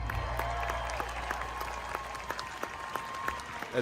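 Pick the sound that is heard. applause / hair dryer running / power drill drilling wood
applause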